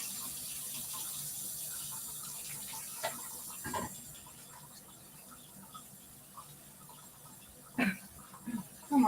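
Water runs steadily from a tap into a sink, a soft continuous hiss with occasional clinks and faint movement nearby.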